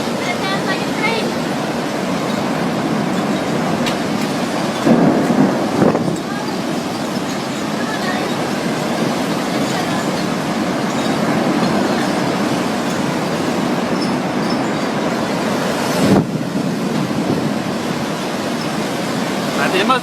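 Wind-driven tornado roar during a storm among trees, a steady broadband rumble like a passing train that holds for the whole stretch with brief louder gusts, while people talk nearby.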